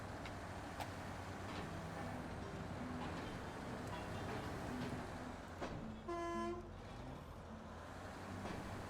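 A truck horn in the game Snowrunner gives one loud, sustained honk of about a second with a strong harmonic tone, sounding over a steady rumbling engine drone.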